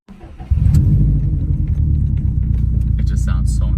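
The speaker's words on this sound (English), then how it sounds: "here's the first start in this video on a 2017 WRX STI with straight pipes" A 2017 Subaru WRX STI with straight pipes fires up after a brief crank, then settles into a loud, deep, rumbling idle close by that continues steadily, with a voice faintly present.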